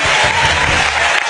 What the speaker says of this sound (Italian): E questi che applaudono, l'applauso sotto